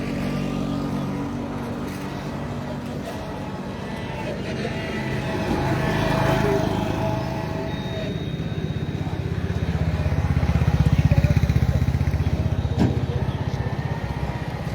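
Steady drone of cycles and motor vehicles passing along a fog-covered road in Amta, a continuous low rumble that swells and fades as traffic moves by, with no voices.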